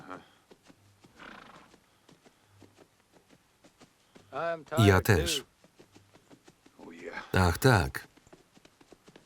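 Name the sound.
horse walking, hooves clip-clopping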